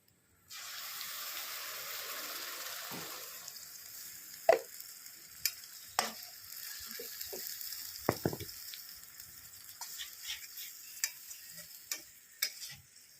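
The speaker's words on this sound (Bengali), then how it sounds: "এবার আমি মশলাটা দিয়ে দেবো" Spices sizzling in hot oil in a pan while biryani cooks outdoors, a steady frying hiss that starts suddenly, followed by scattered clinks and scrapes of stirring.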